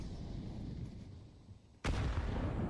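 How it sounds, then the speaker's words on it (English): An HE grenade detonates in a Counter-Strike match, a single sudden loud blast that cuts through quiet background ambience and leaves a sustained rumbling tail. "Jeez, a HE grenade, they would have heard him now."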